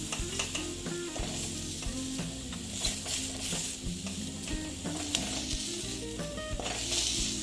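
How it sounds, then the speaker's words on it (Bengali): Eggplant pieces frying in oil in a pan give a continuous close sizzle, with stirring scrapes and clinks from the pan and utensil throughout and no talking. "দিয়ে বেগুনগুলোকে আমি ভেজে নিচ্ছি"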